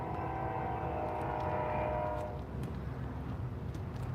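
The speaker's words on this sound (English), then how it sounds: "Thought I heard a horn." A Norfolk Southern or CSX train sounds its horn trackside in Dalton, Georgia, a sustained moderately distant blast lasting about two seconds before fading into low rumbling rail noise.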